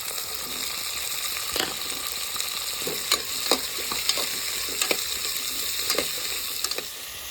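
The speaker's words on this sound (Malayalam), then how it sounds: "ഒരു 200 ഗ്രാം ഉള്ളി ഇട്ട് കൊടുക്കാം കേട്ടോ." Sliced onions frying in hot oil in a pan for mutton kurma, a continuous loud sizzle with occasional scraping stirs and clinks throughout.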